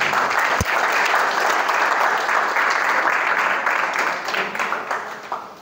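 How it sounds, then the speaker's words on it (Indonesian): Strong, sustained audience applause at a school leadership seminar, dense clapping filling the room and slowly tapering off toward the end. "Tepuk tangan untuk Dwi Warna dan Pelita Insani."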